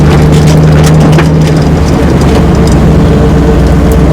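A 1968 Ford Mustang 428 Cobra Jet convertible on a test drive, its engine a loud, steady low rumble with road and wind noise, continuous and close throughout.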